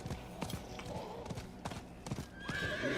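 In the video game Diablo IV, a horse's hooves clip-clop in quick, close beats under a whinny and scuffling combat noise, with a rising tonal effect near the end.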